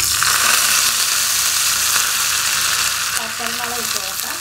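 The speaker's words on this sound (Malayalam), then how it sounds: "1 ടീസ്പൂണോളം വെളിച്ചെണ്ണ ഒഴിച്ച് കൊടുക്കുകയാണ്. കടുക് ഇട്ട് കൊടുക്കാം." Mustard seeds spluttering and crackling in hot coconut oil on a Kuttanadan houseboat kitchen stove, a bright continuous sizzle with rapid pops, and a voice speaking briefly near the end.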